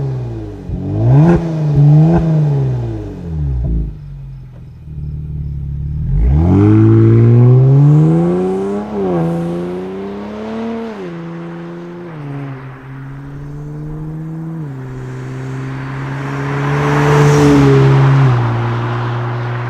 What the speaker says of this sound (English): Let's get it down the ground. We're gonna take it for a rip.